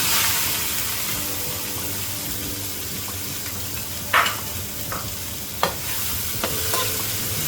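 Chopped onion drops into frying Bangladeshi chicken curry with potatoes, a continuous close sizzle with a few sharp spoon scrapes and clinks against the pot partway through, and no voices.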